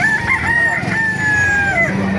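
At an open-air poultry market in Baliuag, a rooster crows loudly and close by with a long drawn-out call. Other chickens cluck and squawk underneath in a busy, crowded setting.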